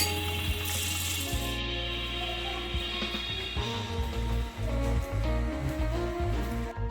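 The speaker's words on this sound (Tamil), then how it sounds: "லாஸ்ட்டாக கொஞ்சம் கருவேப்பிலையை இந்த சூடான எண்ணெயில் ஃப்ரை பண்ணி எடுத்துக்கலாம்" Curry leaves frying in hot oil for a homemade oma podi snack, a soft steady sizzle with a brighter crackle at first, plus faint clinks and scrapes nearby.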